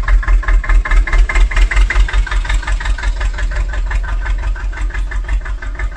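Mini tractor engine running while unloading white cement, a loud close low chugging idle with rapid regular pulsing throughout.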